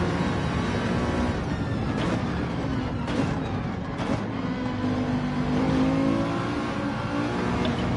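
A Ferrari racing car in Gran Turismo 7 revs hard and steadily, its engine note droning loud and close, rising and shifting pitch without a break.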